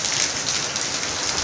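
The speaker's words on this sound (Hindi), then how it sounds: "देखिए कितनी तेज़ बारिश हो रही है, हवा चल रही है, पानी गिर रहा है देखिए यहाँ छत से हमारी।" Heavy rain pours off a rooftop during a windy thunderstorm, a loud, dense, unbroken hiss of falling water with no voices.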